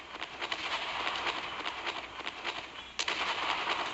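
Naval guns fire repeatedly in the naval warship game Naval Creed, with a fast stream of muffled booming shots rolling together and a sharper blast near the end, dense and continuous.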